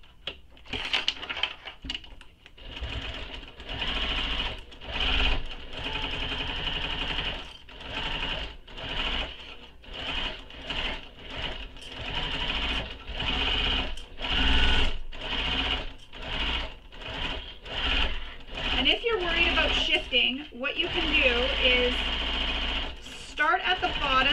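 A sewing machine stitches a seam on a mini backpack in steady runs of rapid needle chatter, pausing and restarting through the passage, with a person talking over it.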